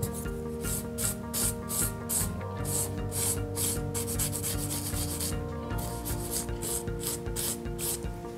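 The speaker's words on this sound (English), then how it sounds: "Now that I filed the entire surface with the 180 grit" An electric nail file sands a gel nail surface with a 180 grit bit, a steady close rubbing whine broken by regular short bursts of grinding as the bit passes over the nail.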